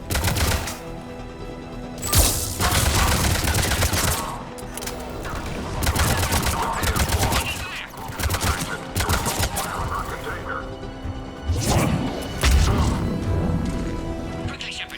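Rapid gunfire fills a firefight in Mass Effect Legendary Edition, with sustained volleys of shots and impacts in several loud waves. Brief lulls separate the bursts, and voices shout over the shooting.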